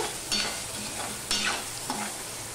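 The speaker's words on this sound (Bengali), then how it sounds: "এবার আলুগুলোকেও আমি ভেজে নেব।" Potatoes sizzle steadily in a hot pan while a utensil scrapes and stirs in several short strokes, close up with no talking.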